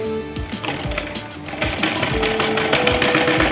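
Sewing machine stitching a salwar, a fast rhythmic mechanical chatter that starts slower, then speeds up and grows louder, close by with no talking.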